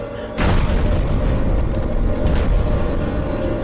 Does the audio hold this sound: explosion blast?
yes